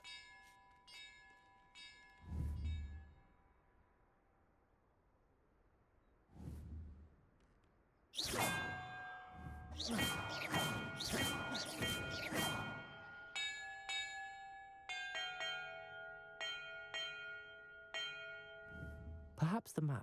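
Bells in Hogwarts Legacy ring in scattered single strikes and then a dense run of overlapping chimes, each tone lingering and decaying, with quiet gaps between the early strikes and no talk.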